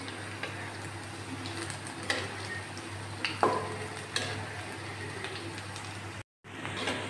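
Spinach leaf bora fritters fry in hot oil, a steady low sizzle with faint crackles and a few utensil clinks, quiet and continuous with a brief dropout near the end.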